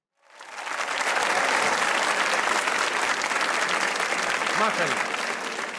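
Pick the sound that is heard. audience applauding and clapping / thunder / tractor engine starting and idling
audience applauding and clapping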